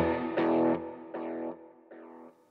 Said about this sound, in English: the first delay that you have that you see in this patch here is a tape delay set to quarter note